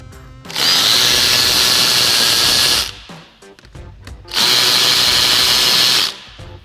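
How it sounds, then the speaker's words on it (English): Power driver with a 7 mm socket spins out fender liner screws on a Ford F-150, two loud, sustained whirring runs separated by a short pause. "we're going to remove the 2 7 millimeter screws on each side"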